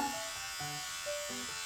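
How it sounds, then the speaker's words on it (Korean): A wet-and-dry electric shaver runs with a steady, close buzzing whine whose pitch shifts slightly as it moves, with no voices over it. "이거 이제 면도기인데요"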